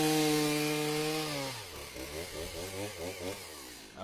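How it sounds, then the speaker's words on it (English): A chainsaw cutting firewood, its engine first idling with a steady hum, then dropping and roaring unevenly as the chain bites into the wood, loud and close throughout. "I gotta get you guys on the action, the chainsaw action."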